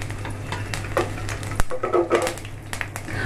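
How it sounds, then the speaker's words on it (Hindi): Mustard seeds and curry leaves sizzle in hot oil in a pan for upma, a steady close crackle broken by sharp pops and a few stirring scrapes. "अब मैं उसमें ये मस्टर्ड सीड और ये करी लीव्स डाल दूंगी"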